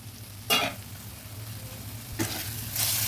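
Softened tomatoes frying in a pan for a potato and koi fish curry: a quiet, steady sizzle broken by two brief scraping stirs.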